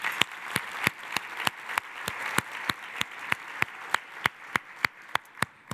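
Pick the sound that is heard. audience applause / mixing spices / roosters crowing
audience applause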